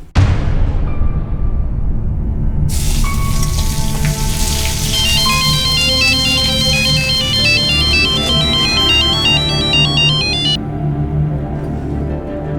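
An incoming call sets off a loud, melodic phone ringtone in a crime drama scene. It plays continuously for several seconds over a steady rain-like background hiss.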